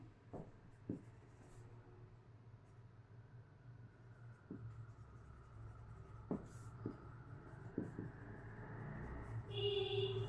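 Hand writing on paper during a lesson, a soft continuous scratch of pen strokes with a few light taps, close and steady with no talk over it.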